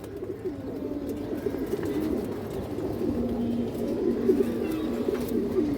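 Fancy pigeons in a seller's loft, among breeds like China khaki, kaldom and bagha, coo steadily in a low, throaty, overlapping drone that carries on without a break, close by and moderately loud.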